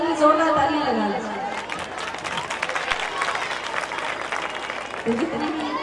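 An audience breaks into loud, sustained applause and cheering at a community event for Kamla Tola in Ellenabad, with a voice speaking over the start before the dense clapping carries on steadily.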